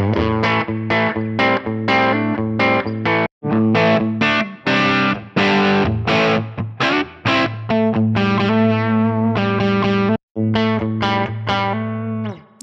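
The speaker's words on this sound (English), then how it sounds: "if I was to be playing that and switch over to a Tweed Blues Bright preset that I have, you'll notice there will be a big gap between the switching" An electric guitar played through a Line 6 Helix modeler rings out with distorted, effected chords, cutting to silence in brief gaps where presets switch, including a Tweed Blues Bright preset.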